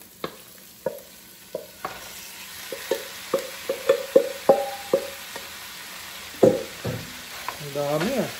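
Marinated garlic pepper beef stirred in a pan, a series of spatula scrapes and clacks in an uneven rhythm over a soft background sizzle.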